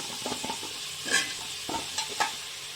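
Carrot and drumstick pieces sautéing in a pan for a Tirunelveli sodhi, a soft continuous sizzle broken by a handful of scraping stirs of the spoon against the pan.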